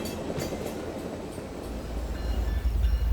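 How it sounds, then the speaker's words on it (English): An Iowa Interstate Railroad freight train led by a diesel locomotive in Rock Island commemorative paint rumbles past, a steady rolling roar with faint wheel clatter that swells into a deep low rumble toward the end. "the train's head end is a diesel engine painted to commemorate the Rock Island freight locomotive"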